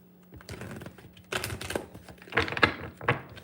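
Bursts of rapid key clicks on a computer keyboard, separated by short pauses, close and fairly crisp.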